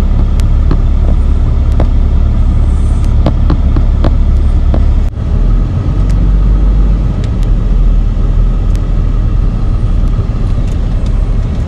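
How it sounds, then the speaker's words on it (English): A diesel truck of about 5,800 pounds packs down a gravel driveway with a continuous close engine rumble. Scattered crunches and pops of gravel come from under the tires as it rolls slowly along. "I try to pack his gravel down with the truck."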